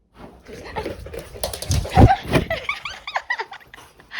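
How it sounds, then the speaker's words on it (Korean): A dog at home, excited at bedtime, gives a burst of whimpers, yips and short barks, close and lively, with a person's soft laughter mixed in. "이거 무슨 강아지야"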